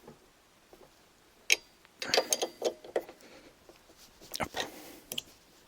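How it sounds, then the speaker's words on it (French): A wrench tightens bolts while a Lankeleisi MG600 Plus electric fat bike is assembled, giving close, quiet clicks, ticks and short metallic scrapes in irregular bursts. "Et ensuite vous terminez le vissage, le serrage à la clé."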